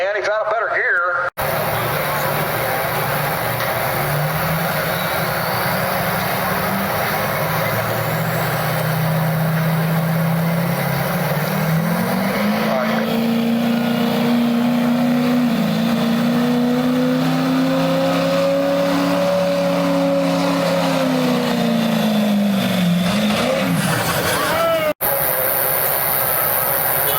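A stock work truck engine roars steadily at a county fair truck pull in Hillsboro, Ohio, its pitch climbing and holding through a long pull before dropping off, loud and continuous with crowd and announcer sounds mixed in.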